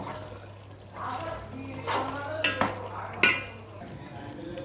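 Stirring masala powder into a pot of country chicken curry, with soft scraping and occasional clinks of a spoon against the pot, fairly quiet, with a voice speaking at times.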